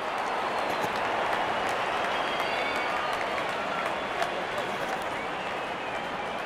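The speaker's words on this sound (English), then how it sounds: "The crowd is enjoying every bit of this action." A cricket crowd at an Oman match applauds and cheers in a broad, continuous wash of clapping, with some sharp claps standing out, filling the whole stretch at moderate distance.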